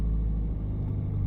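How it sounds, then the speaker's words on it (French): A car engine rumbles low and steady as the vehicle pulls away from a standstill, a close, continuous drone without clear revving. "je vais accélérer"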